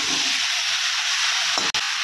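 Curry with potatoes sizzles and fries in a pan as salt is added and stirred, a steady close hiss broken near the end by a sharp spoon clack against the pan.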